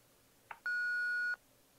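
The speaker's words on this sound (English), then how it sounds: "If you'd like to leave a message after the beep" A single clean electronic beep from an answering machine in the Thimbleweed Park adventure game, preceded by a brief click, lasting under a second in otherwise quiet surroundings.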